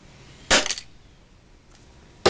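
A metal hammer strikes a plastic toy car, two sharp loud cracks about two seconds apart with a faint tap between, no voices.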